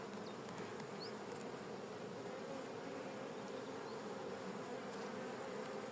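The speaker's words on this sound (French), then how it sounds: "Alors pour le moment, les abeilles, elles ne chantent pas trop." Honeybees humming inside an opened hive holding a newly introduced swarm, a steady dense buzz that carries on without a break, fairly faint, with no voices.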